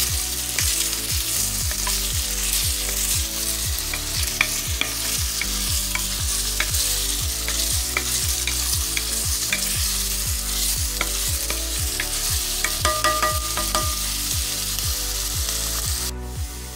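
Carrots and other chopped vegetables sauté over lowered heat in a soup pot for homemade chicken noodle soup, giving a steady, close sizzle with regular scraping stirs of a spoon against the pot throughout.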